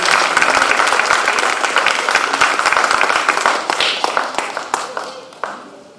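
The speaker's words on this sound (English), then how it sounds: "I think that deserves another round of applause." Audience applause at a Veterans Day ceremony, dense steady clapping that thins toward the end into scattered claps.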